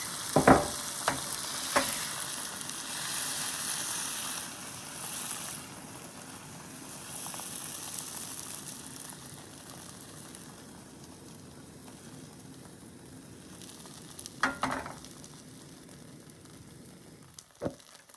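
Steady, soft sizzling of an egg frying in an oiled pan, with a few sharp clinks and scrapes of a utensil standing out from the hiss.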